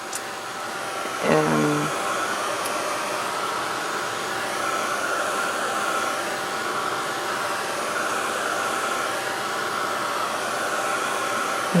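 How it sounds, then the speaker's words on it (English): Heat tool blowing steadily to dry glue on a journal page, a constant close whooshing hiss that carries through the whole stretch, with a brief voice near the start. "we can use the heat tool a bit here to help it dry"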